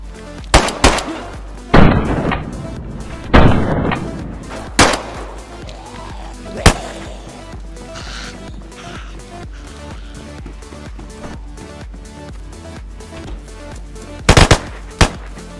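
Gunfire in the survival game DayZ: a handful of sharp, loud single shots and short bursts spaced irregularly across the scene, with a quick double crack near the end, over a quiet background.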